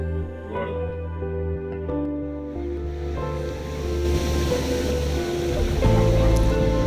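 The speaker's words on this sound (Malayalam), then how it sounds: "കണ്ണെത്താ ദൂരത്ത് നീണ്ട നിവർന്ന് കിടക്കുന്ന കണ്ടോ കടൽ" Sea waves roll and break continuously along the shore under a low, steady wash, with the surf swelling louder toward the end; no one speaks.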